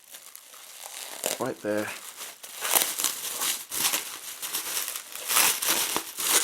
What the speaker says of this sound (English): and unwrapping the lid of the butter dish.